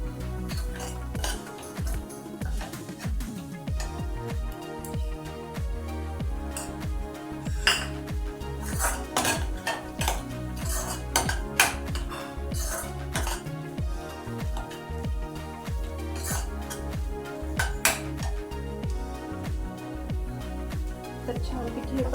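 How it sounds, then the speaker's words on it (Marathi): Kolhapuri chutney masala being stirred and sautéed in a pan for Kolhapuri chicken curry: a steady run of spoon-on-pan clinks and scrapes with sizzling underneath, continuous and fairly close throughout. "चटणी टाकून पण छान आपण असं परतवून घेऊया."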